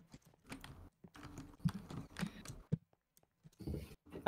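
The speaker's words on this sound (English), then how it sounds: "I could just seriously hear someone's membrane keyboard in the background." A membrane computer keyboard is typed on in the background of a game stream, with irregular soft clacking bursts that start and stop in uneven runs.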